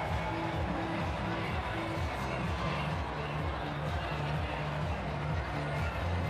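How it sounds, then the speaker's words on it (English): Crowd lining Oxford Street at the Sydney Gay and Lesbian Mardi Gras parade, a dense, continuous wash of cheering and chatter with steady music underneath, heard from within the throng. "The crowd not flagging one bit."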